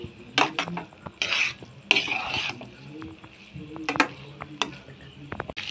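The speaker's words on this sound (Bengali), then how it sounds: "মশলাটার সাথে চাউমিনটা আমরা এবার ভালো করে মিশিয়ে নেব" Chow mein noodles with chicken being stirred through spices in a pan, giving scraping, clattering utensil strokes in uneven bursts over a faint sizzle, close by.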